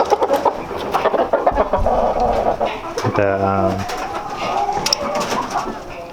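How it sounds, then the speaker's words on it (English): Doves cooing loudly nearby among roosters and other fowl, a repeated throaty coo standing out midway, with a person talking and background clucking. "The doves are quite loud."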